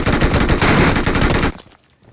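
Sustained rapid automatic gunfire from a weapon in the video game PUBG, loud and dense for about a second and a half before cutting off abruptly into quiet.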